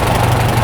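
A Farmall tractor engine idles slowly and steadily after a carburetor adjustment, a loud, close, low throbbing rumble with an even pulse and no voices.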